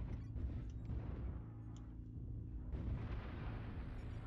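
Heavy artillery strike explosions in a shooter game, a dense continuous rumble of booming blasts with a fresh impact surge near the end, loud and close with no talking.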